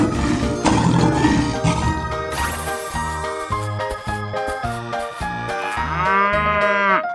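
Cartoonish cow mooing in a 3D animal slide video game, several long lowing calls over bright jingling game music and chimes, loud and up front.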